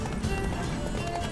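Roach the horse's hooves gallop in The Witcher 3, a fast, steady clip-clop rhythm running throughout at close range, loud and unbroken.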